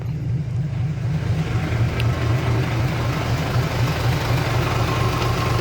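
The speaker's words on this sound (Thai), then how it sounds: "ผมรับหน้าที่ขับรถไถเองวันนี้" A tractor engine runs steadily close by on a farm job, a loud, continuous low throbbing drone without pauses.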